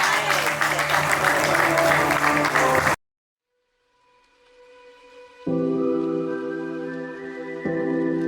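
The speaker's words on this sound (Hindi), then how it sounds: "Ladies and gentlemen, give it up for" A crowd at a film trailer launch event claps in loud, dense applause for a few seconds, which stops suddenly and gives way to silence and then sustained musical tones.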